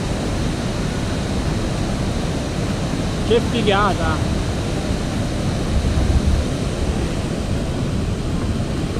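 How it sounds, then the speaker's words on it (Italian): The Rutor waterfall in the Alps rushes steadily as a broad, dense roar close by, with a brief excited exclamation from a hiker partway through. "Adesso passiamo sopra la cascata, guardate che meraviglia!"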